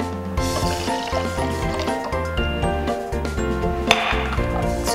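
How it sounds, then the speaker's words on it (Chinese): Filtered water is poured into a drink shaker while making a grapefruit lactic-acid-bacteria milk tea, a soft continuous liquid fill running under steady background music. "加入过滤水"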